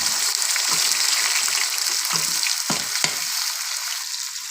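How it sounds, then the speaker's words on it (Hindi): Onions frying in a kadhai with garam masala give a loud, continuous sizzle with a few stirring thumps, and the sound holds steady throughout. "सबसे पहले इसमें गरम मसाला डाला है। अब इसमें प्याज डालेंगे।"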